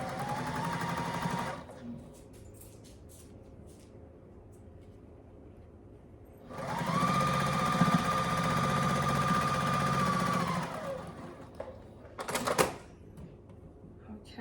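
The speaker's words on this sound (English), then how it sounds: "we're gonna sew the top of the roof on" A sewing machine stitching the roof piece of a Tilda quilt, running in two loud, steady bursts of rapid needle chatter, a short one and then a longer one, with quiet handling noises and a few clicks in between.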